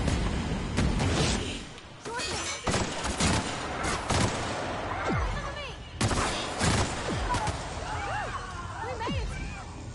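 Assault rifle gunfire in The Outer Worlds, repeated loud bursts and fusillades of shots across the span, with speech over the gunfire.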